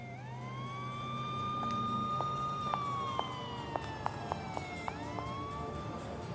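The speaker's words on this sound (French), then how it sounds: "elle entend des sirènes à l'extérieur" Police sirens wail outside a church in a video game, the long rising and falling tones sounding steady and moderately distant, with scattered short clicks over them.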